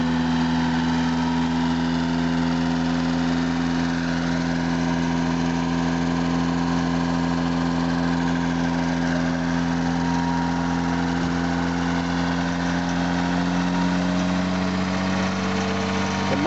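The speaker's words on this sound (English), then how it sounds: "doing a big burnout in the Volvo." A Volvo car engine held at revs during a burnout, the motor making rough, unhealthy noises: a loud, continuous, steady drone with a vibrating hum and no break for the whole stretch.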